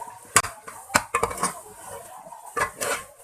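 Carrot halwa stirred with khoya, raisins and coconut in a pan, a spoon scraping and clinking against the metal in several sharp, irregular knocks and scrapes, close and fairly loud with no talk.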